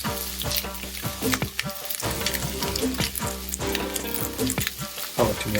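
Chopped onions frying in oil in a hot pan give a continuous loud sizzle with crackles, broken by repeated scraping and stirring knocks.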